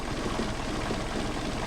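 A Mercedes 190SL engine on Solex 44PHH carburetors idles during carburetor tuning, a steady dense rumble held close and constant with no talk.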